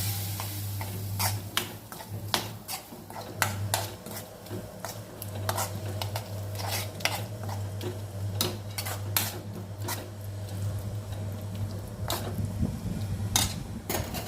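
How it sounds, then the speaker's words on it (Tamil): Ground spice powder being stirred into oil for a quick lemon pickle, with repeated spoon scrapes and clinks against the vessel over a low steady hum, alone with no talking. "சேர்த்துட்டு நல்லா எண்ணெயில் கலந்து விடுங்க"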